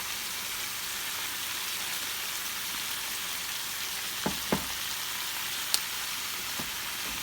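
Cabbage fries with bacon in a pan, giving a soft continuous sizzle and crackle at low level, broken near the end by a few small taps and clinks of a utensil.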